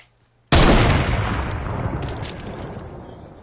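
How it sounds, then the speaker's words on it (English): A heavy sniper rifle fires a single loud, close shot in a video game. The sharp blast is followed by a long, gradually fading rumble, with no talking over it. "Watch when I shoot my heavy sniper"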